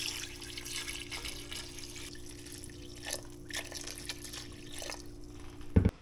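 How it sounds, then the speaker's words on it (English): Water trickles and splashes into a pot of fish stock being made with summer flounder, a light, uneven pour close by that ends in a brief louder splash. "In with the water."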